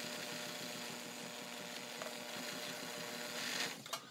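A Toyota Morse Fotomatic IV zigzag sewing machine stitches at steady speed, its motor hum and fast needle clatter continuous and close, ending with a brief louder burst and a couple of knocks.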